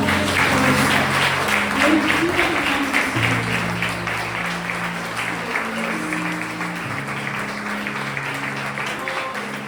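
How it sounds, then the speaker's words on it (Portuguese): A church congregation claps and cheers in praise, a dense wash of applause with sustained musical tones beneath it, loud at first and easing slightly over the stretch. "aplauda o Senhor com a sua força"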